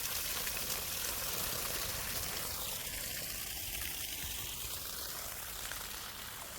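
Water gushes steadily from a hose onto garden beds of drying flowers, a continuous close rushing wash with no speech.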